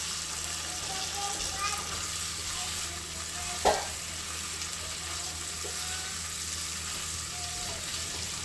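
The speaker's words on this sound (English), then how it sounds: "Let's sear the seasonings on the other side as well." Seasoned food sears in a frying pan with a steady, fairly loud sizzle throughout, and a single sharp clatter of a utensil on the pan interrupts it partway through.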